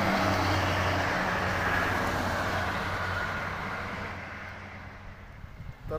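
Buses, including express coaches, drive past on the Trans-Java toll road, giving a steady loud roar of engines and tyre noise that slowly fades as they move away, with no talk.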